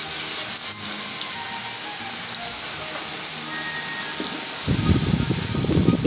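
Veg lollipops fry in hot oil in a home kitchen, giving a steady close sizzle that swells louder and denser near the end.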